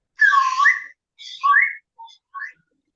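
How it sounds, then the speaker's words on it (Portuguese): An indigenous wooden bird-call whistle is blown in four short chirping bursts, the first long and warbling and the rest quicker and fainter, each standing alone against silence. "esse apito africano, africano não, indígena, que é para chamar passarinho"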